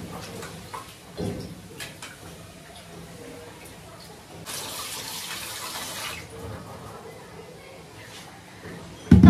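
Food being washed under a running kitchen tap in a home, with a steady splashing water stream strongest in the middle of the clip. Faint background noise surrounds it, and a brief louder knock comes at the end.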